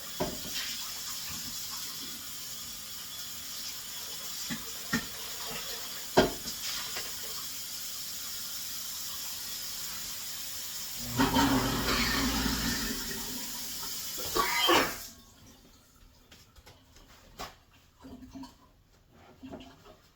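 Kitchen tap running water to rinse something out, a steady broadband rush that swells and splashes louder near the end before cutting off abruptly, leaving faint clatter.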